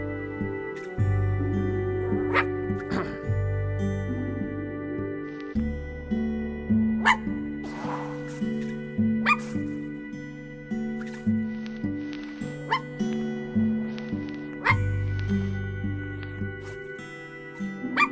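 Dog barking in the video game I Am Dead, repeated yips and barks over looping melodic game music with a steady rhythm throughout.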